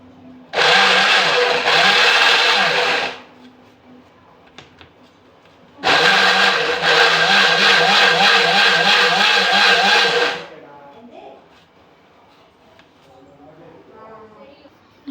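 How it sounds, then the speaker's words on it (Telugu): A kitchen mixer grinder blends banana and milk for ice cream in two loud whirring bursts, a few seconds each, separated by a short pause, then the room falls quiet. "మిక్సీ అయితే పట్టేస్తా."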